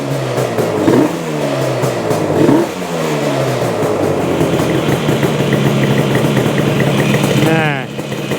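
A Yamaha RD400 motorcycle engine, under repair with a faulty tachometer, runs close and steady at a fast idle, with a couple of brief revs near the start and people talking over it.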